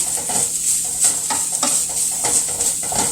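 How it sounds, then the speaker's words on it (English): Meat samosa filling with pepper stirred in a hot pan, a close sizzle with repeated rhythmic scraping strokes of the spoon, no talking. "So I can now add the pepper and stir."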